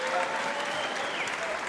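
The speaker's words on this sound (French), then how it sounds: "On applaudit." A crowd at a women's boxing match applauds in a continuous, even wash of clapping before the sixth and final round, with a voice and tonal sounds running faintly beneath.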